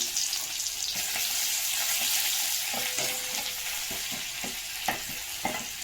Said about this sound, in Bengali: কালো জিরে ফোড়ন দিলাম আমাদের মাছটার জন্য রসুন দিয়ে দিলাম